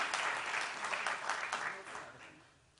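An audience at a public address by Pakistan's ambassador Sherry Rehman applauds to welcome her to the stage. The clapping is full at first, then thins and fades away.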